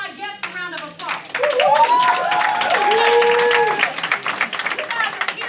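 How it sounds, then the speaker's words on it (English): Audience clapping and cheering for guests at a home-based business presentation, a full burst of applause rising after a brief voice and holding steady before tapering. "Let me give my guests a round of applause."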